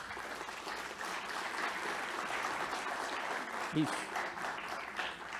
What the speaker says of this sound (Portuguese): o presidente da ABS São Paulo, Luiz Pladeval, a quem eu peço uma salva de palmas.